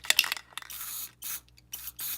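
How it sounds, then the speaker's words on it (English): Short hissing bursts of gloss black aerosol spray paint come in three or four quick blasts into a cap, preceded by a light rattle and tapping. "And I spray into the cap here."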